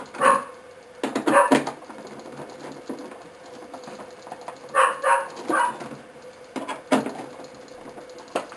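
A dog barks in several separate bursts indoors, close and fairly loud, with quieter stretches between them during a home PC build.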